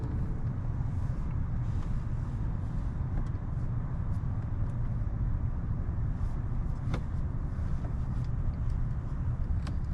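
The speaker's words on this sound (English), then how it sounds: "press the start button to actually start the motor" A 2015 Rolls-Royce Wraith idles after a push-button start, its engine a smooth, steady low rumble heard from inside the cabin with faint clicks over it.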